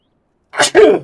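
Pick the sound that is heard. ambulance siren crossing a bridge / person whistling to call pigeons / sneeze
sneeze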